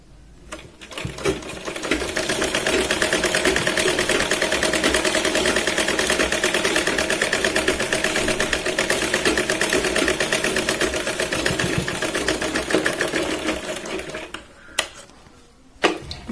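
A sewing machine stitches a katori blouse in one long, fast, rhythmic whirring run lasting over ten seconds, close and loud, then slows and stops with a few clicks.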